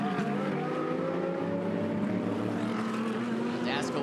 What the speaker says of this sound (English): That Ferrari 488 GT3 Evo definitely has some torque.